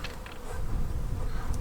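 Honeybees buzz at an opened backyard hive during a first spring inspection, a close, steady droning hum that swells slightly partway through, with no talking.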